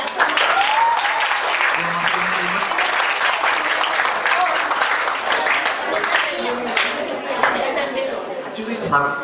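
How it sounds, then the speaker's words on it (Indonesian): A crowd applauds steadily with dense clapping for a second-place winner at a 2013 closing ceremony in Surabaya, while people chatter and call out beneath it. "sekali lagi kita berikan tepuk tangan"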